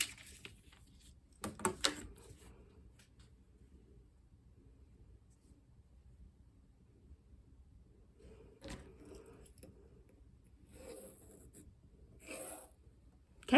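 A plain pencil marks lines on fabric for a reverse appliqué quilting pocket, giving soft scratchy strokes in short bursts near the start and again later, with quiet stretches between.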